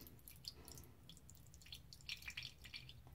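Faint, close trickling and dripping of water into a small shaving mug with a synthetic brush, light and uneven, with no voices.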